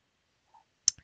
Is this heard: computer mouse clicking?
yes